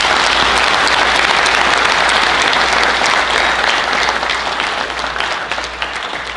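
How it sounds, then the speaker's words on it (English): Dense, loud applause from a crowd at a community annual meeting, holding strong for several seconds and then gradually thinning and fading toward the end. "Can we please give the Westbrook Village posse a huge round of applause?"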